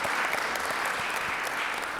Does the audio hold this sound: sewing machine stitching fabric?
no